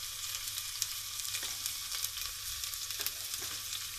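Chopped onion fries in garlic oil in a pot, a steady close hiss and crackle with occasional stirring scrapes and brief bubbling pops, without voices.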